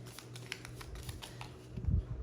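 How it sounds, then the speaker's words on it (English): Tarot cards being shuffled by hand, a quick run of soft close riffling clicks and taps that builds into a denser, louder flutter at the end. "so let me shuffle them."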